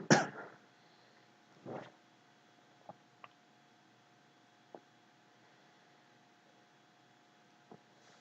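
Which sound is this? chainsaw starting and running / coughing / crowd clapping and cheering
coughing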